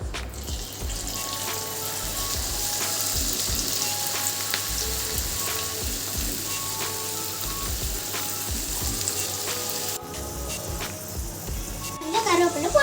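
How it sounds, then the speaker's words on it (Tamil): Rose pakoda batter deep-fries in hot oil with a dense, continuous bubbling sizzle and scattered light clinks from stirring, close and fairly loud. "நம்ம பொரிச்சு எடுத்துக்கலாம்."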